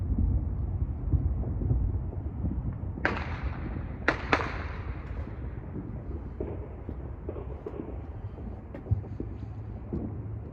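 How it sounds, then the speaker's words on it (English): Distant New Year's night fireworks booming over a rumbling, windy background, with a few sharp cracks clustered together and scattered fainter pops afterward. "those are all fireworks. Those are really big."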